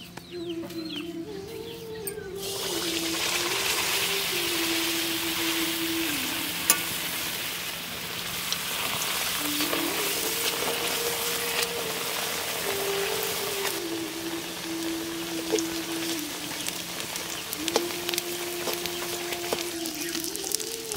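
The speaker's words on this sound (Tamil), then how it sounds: "எண்ணெய் நல்லா காஞ்சதும் கொஞ்சம் ஆரிய மாவை எடுத்து எண்ணெயில் சேர்த்துக்கலாம்" Ragi flour frying in hot groundnut oil in a pan, a steady loud sizzle that starts a couple of seconds in and continues with faint scraping of stirring, while a rooster crows repeatedly in the background.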